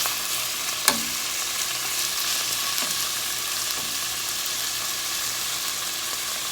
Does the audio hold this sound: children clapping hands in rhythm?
no